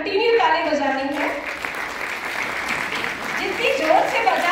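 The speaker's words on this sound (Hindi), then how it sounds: "तो एक मिनट के लिए जोरदार कंटिन्यू ताली बजानी है" Seminar audience at a Reiki and past-life introduction clapping their hands loudly and continuously, a dense steady roar of applause with a voice heard at the start.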